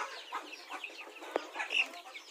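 Soft, scattered clucking from a few free-range Rhode Island chickens, fairly faint, with one brief sharp tap partway through.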